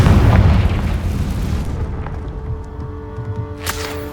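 Confringo fire-blast spell from Hogwarts Legacy going off, a loud booming explosion with a deep rumbling body that fades over a couple of seconds, followed by faint sparkling tones and a small burst near the end.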